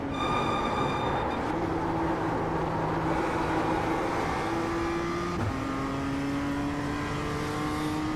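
A race car engine in the iRacing sim drones at high revs through a lap, holding steady pitch with a sharp gear shift partway through, loud and continuous with no talk over it.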